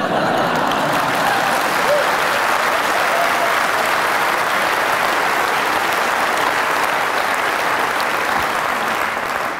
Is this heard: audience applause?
yes